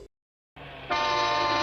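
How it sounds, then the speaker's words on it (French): Car horn in an animated Disney film chase, a sustained blaring honk that starts after a short silence and swells louder partway through, held steadily to the end. "En klaxonnant, elle colle sa voiture au camion."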